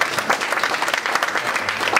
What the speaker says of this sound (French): Applaudissez une fois de plus, s'il te plaît.